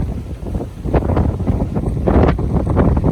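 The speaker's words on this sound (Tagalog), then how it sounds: "Lakas ng hangin dito" Strong wind buffets the microphone in loud, gusty rushes that build and surge, with no voices.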